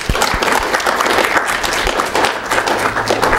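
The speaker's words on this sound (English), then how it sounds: "Give yourselves a round of applause," An audience at a student government meeting applauding, dense continuous clapping from many hands, loud and close, filling the whole moment without any voices.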